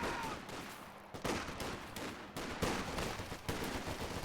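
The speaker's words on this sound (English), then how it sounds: "Sniper picking off a rifle." Gunfire in a competitive strategy video game match with a sniper picking off riflemen, heard as repeated sharp shots and distant battle rumble in a fairly continuous stream.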